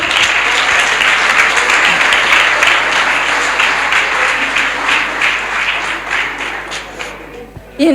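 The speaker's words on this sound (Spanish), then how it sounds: "Démosle un fuerte aplauso al Señor." A church congregation gives loud, sustained applause, a dense rush of many hands clapping together that thins toward the end before a voice cuts in.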